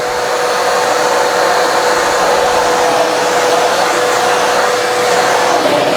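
A Bissell AeroSwift vacuum cleaner runs with a steady, loud, high-pitched whine and airy rush that holds unchanged throughout, close by.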